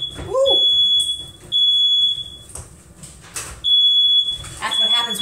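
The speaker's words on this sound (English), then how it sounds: "that's what happens when you preheat your oven and don't turn on the fan, the fire alarm goes off" A smoke alarm set off by a preheating oven with the fan off beeps in loud, high, repeated piercing tones in a kitchen, with people talking and clatter between the beeps.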